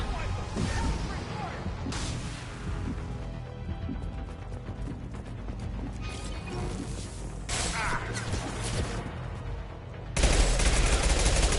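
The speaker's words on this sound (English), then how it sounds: "Taking cover. Taking fire." Mass Effect 2 combat gunfire: bursts of rapid shots and heavy impacts crackle in waves, with loud sustained firing near the end and brief calls from characters between volleys.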